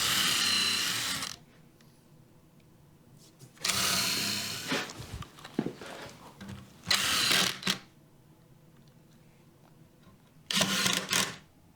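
Power drill boring pilot holes and driving 1 1/4-inch screws into the top of a walk-up bar unit, heard as four short, loud whirring bursts separated by quiet pauses.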